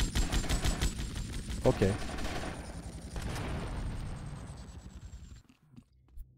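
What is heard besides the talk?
gunfire from shooting an enemy in video game GTA Vice City Definitive Edition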